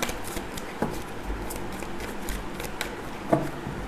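A tarot deck is shuffled by hand in soft, quick riffling bursts and light card slaps, close and fairly quiet, with a sharper tap near the end as the deck is split into two piles.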